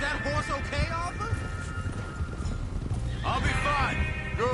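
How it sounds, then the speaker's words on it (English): A horse whinnies and neighs twice over steady clip-clopping hooves in Red Dead Redemption 2, set against a constant rumble of a moving train, with characters talking in between. "Is that horse okay, Arthur?"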